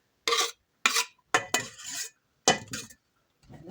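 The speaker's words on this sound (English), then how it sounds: "So we're going to use magic spoon to actually mix this up" A spoon mixes a cheesy meatball mixture in a bowl, in five or six short, separate bursts of wet scraping and clinking with silent pauses between them.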